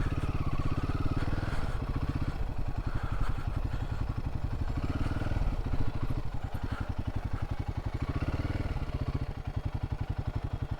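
A Royal Enfield Himalayan 450 motorcycle rides a forest route near K Gudi, its engine a steady, close, throbbing drone with an even pulsing beat throughout.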